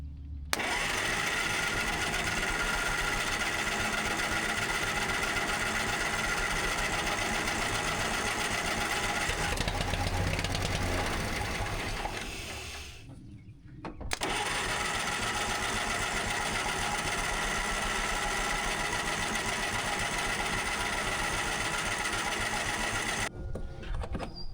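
Pony motor on a Cat D6 bulldozer running fast and steady with a dense, loud mechanical clatter, briefly dipping and cutting out near the middle before resuming.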